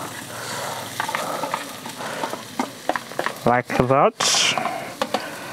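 Chopped onions sizzle in hot vegetable oil for African kebabs while being stirred, a constant frying hiss broken by scraping strokes and brief utensil knocks, with a short stretch of speech in the middle.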